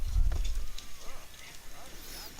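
Horse in the video game Red Dead Redemption 2, a few soft hoof clops and a low thud near the start, then quiet shuffling with faint background game ambience.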